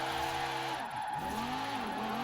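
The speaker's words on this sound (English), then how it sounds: "A bit more aggressive with the handbrake. Chucking her in. Putting the power on." A Lamborghini in Forza Horizon 4 slides through a handbrake drift, its engine droning steadily under a continuous tire skid, with pitch sweeping down and back up as power comes on, loud and close.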